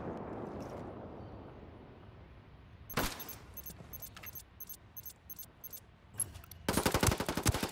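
Gunfire from the Ghost War video game comes as a single sharp shot, then a run of crisp clicks and spaced rounds, ending in a dense rapid burst over a low background rumble.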